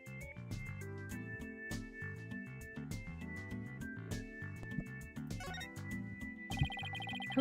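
A telephone rings in the Apollo Justice Ace Attorney video game, its tone repeating over steady game music with a bright electronic ring pattern, no talking.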